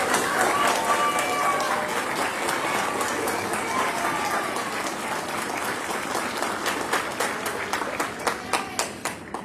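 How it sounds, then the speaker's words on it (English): Applause for coaches at a high school awards ceremony, a dense burst of crowd clapping that gradually thins out into scattered individual claps near the end. "Let's recognize our coaches with a round of applause."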